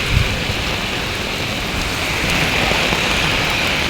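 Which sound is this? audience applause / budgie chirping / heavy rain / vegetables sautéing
heavy rain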